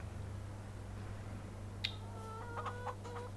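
A single sharp click, then a few quick chicken clucks in a short burst over a steady low hum, in Farming Simulator 22.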